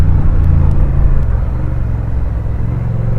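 A Honda big bike motorcycle engine held in first gear, a loud, steady low rumble that stays close and continuous with no voices over it.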